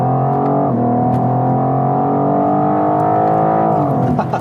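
A 2021 BMW M4 Coupé G82 on a track pulls hard out of a corner, the loud engine note rising through the revs with an abrupt shift after the first second and another near the end, heard from the cabin.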